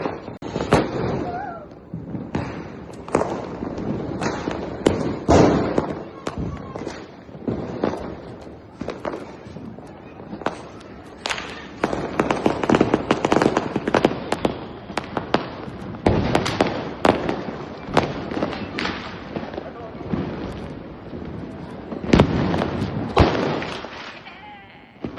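Diwali firecrackers bursting in quick irregular succession outdoors, sharp loud bangs and thuds scattered through the whole stretch, some near and some farther off.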